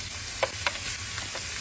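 Onion, garlic, ginger and red and green hot chili peppers frying in oil, with a steady close sizzle and a few soft stirring scrapes at irregular intervals.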